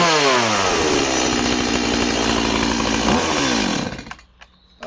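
A small home garden chainsaw, Husqvarna or Stihl, revs loudly and steadily at high throttle for several seconds, then cuts out abruptly into near silence.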